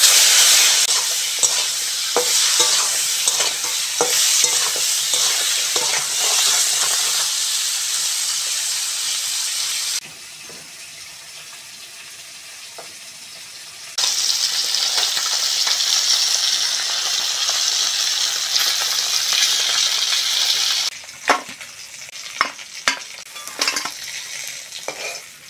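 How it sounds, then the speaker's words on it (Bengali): Koi fish frying in mustard oil in a wok, a loud steady sizzle with crackling and stirring that drops away briefly mid-way, then returns strong, ending with sharper spatters and clinks. "মাছ ভাজার জন্য কড়ার মধ্যে সর্ষের তেল দিয়ে দেবো"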